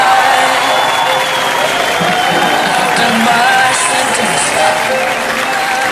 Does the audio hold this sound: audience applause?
yes